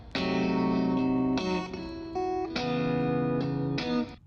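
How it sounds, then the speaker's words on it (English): A clean, dry electric guitar with no reverb plays sustained chords and single notes, upfront and bright, changing every second or so with little room echo and no voices. "I have like one main guitar that's very dry"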